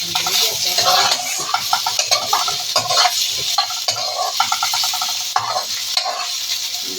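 Garlic and ginger sauté in a hot pan for arroz caldo, a steady sizzle broken by rhythmic scraping and clinking as a utensil stirs them.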